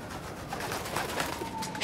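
A pigeon coos in the video game Spider-Man: Miles Morales on PS5, a soft, steady cooing over a busy game soundscape.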